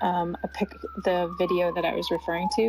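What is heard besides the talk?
siren in the background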